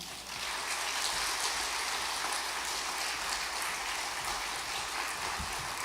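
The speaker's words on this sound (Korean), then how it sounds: "큰 박수로 환영해 주시면 감사하겠습니다" A church congregation at a Wednesday service claps to welcome a missionary to the front, a soft, even wash of applause heard from a distance and sustained without pause.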